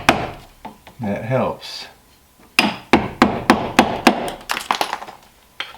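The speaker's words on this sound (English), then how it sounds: "Thing is to have a good sharp chisel." Chisel struck with a hammer cutting into wood siding on a cabin or barndominium, a close series of sharp, rhythmic thunks, about a dozen blows, after a short stretch of speech at the start.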